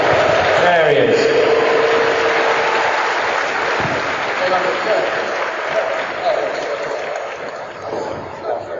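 Audience applause at a Game of Thrones fan convention panel, a loud sustained crowd clapping that fills the hall from the start and slowly thins out, with some voices mixed in.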